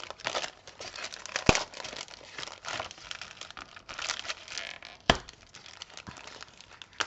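Packaging of a sticker craft kit is opened, with steady close crinkling and crumpling of wrapping and a couple of sharp tearing snaps.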